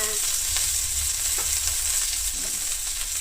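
Mint leaves frying in a pan for a mint and curry leaf chutney, giving a steady, close sizzle with a few faint stirring scrapes and no voices.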